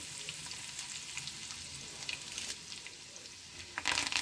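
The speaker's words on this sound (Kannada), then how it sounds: "ಬೆಳ್ಳುಳ್ಳಿ ಹಾಕೊಂಡಿನಿ, ಒಂದು 5-6 ಹೆಸರು ಸಣ್ಣಗೆ ಜಜ್ಜಿ ಹಾಕೊಂಡಿನಿ ನೋಡ್ರಿ" Mustard seeds and five or six crushed garlic cloves fry in oil for a chickpea usli. The sizzle is faint and continuous, with scattered small crackles and a few sharper pops near the end, and no voices.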